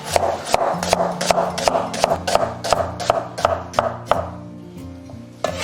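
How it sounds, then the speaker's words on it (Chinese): A knife slicing a washed onion into strips on a cutting board, a steady run of about a dozen crisp, evenly spaced chops heard up close. "再准备一个洗净的洋葱，然后切丝。"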